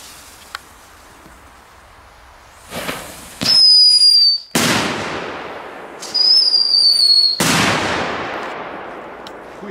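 Two loud firework bangs, each with a shrill whistle and a crackling roar that fades, with quiet gaps before and between.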